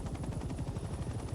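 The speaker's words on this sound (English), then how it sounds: "Oh, we're getting shot by a tank." Rapid gunfire rattles steadily and loudly in Hell Let Loose: Vietnam, with a tank firing at a helicopter amid the ongoing din of the game's combat.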